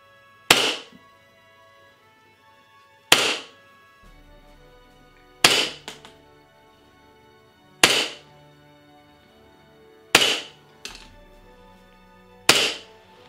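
Officially licensed Colt M1911A1 parkerized grey airsoft pistol firing six sharp single shots, spaced about two to three seconds apart, close and loud in a quiet room with no talk.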